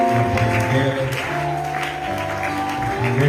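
A church congregation claps and cheers at a worship service, with sustained applause and lively voices over steady musical tones from start to finish.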